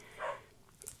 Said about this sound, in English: Please excuse my dog's barking.